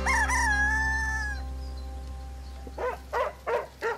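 A rooster crows loudly on a smallholding that also keeps cattle, sheep and chickens, one long drawn-out call near the start, followed by a series of short rhythmic barks from a dog nearby.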